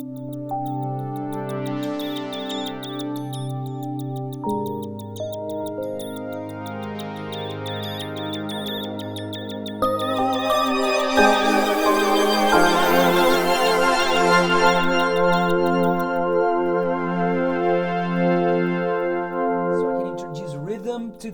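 A Yamaha MODX synthesizer patch morphed with its super knob, sustained layered tones shifting in pitch, then a bright swelling texture with sparkling high detail building partway through, played alone and close.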